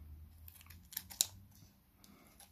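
Scissors snipping a rhinestone diamond strip into pieces, a few quiet close crisp cuts in a soft, still room.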